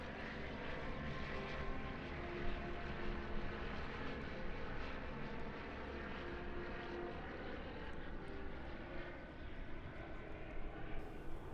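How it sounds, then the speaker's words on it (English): An Alpi Pioneer 330 aerobatic propeller plane flies at an airshow, its engine a steady, fairly distant drone that swells slightly as it passes, with broad outdoor noise underneath. "team now flying the Alpi Pioneer 330"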